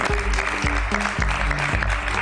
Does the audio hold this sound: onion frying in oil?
no